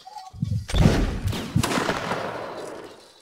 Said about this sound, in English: Face and fire at will.